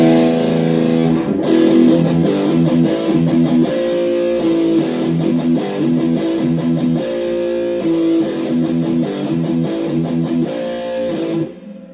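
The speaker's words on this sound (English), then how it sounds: "I love the overdrive on this little stag pedal I got." A distorted electric guitar through a Stag overdrive pedal and Randall RG80 combo amp plays a steady chugging riff for several seconds, loud and gritty, then cuts off abruptly.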